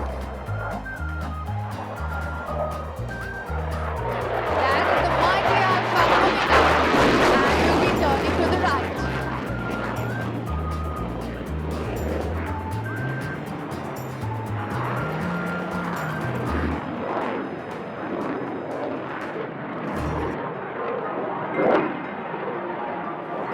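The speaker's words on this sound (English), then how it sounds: "The pilot with ease will pull up and carry out a roll to the right." An aircraft flying a roll at the Bengaluru air show gives a broad, swelling roar that peaks and slowly fades, heard under an announcer speaking over a public-address system with some music.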